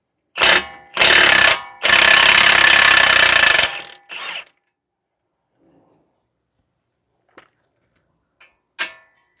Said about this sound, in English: So we're going to remove the nut here.